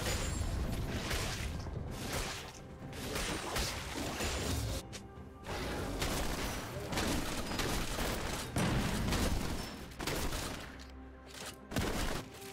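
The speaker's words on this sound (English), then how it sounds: "Red team's turret has been destroyed." Dense, continuous League of Legends battle noise with repeated explosive crashes and blasts as a turret is destroyed, loud and layered throughout with no clear pauses.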